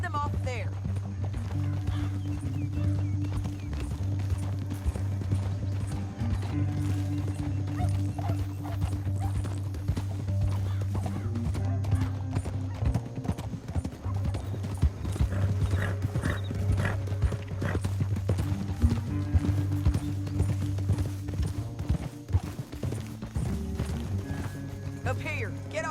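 Horse hooves clip-clopping as a rider travels through canyon country in the Red Dead Redemption 2 video game, a steady rhythmic trot running throughout beneath a low sustained musical score, with occasional voices and a brief whinny.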